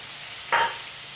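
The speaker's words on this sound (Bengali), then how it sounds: "ওকে আমি জোর কমিয়ে ভাজবো" Onion paste and spices hit a pan over lowered heat, giving a short, soft sizzle and stir that rises briefly near the middle of an otherwise quiet moment.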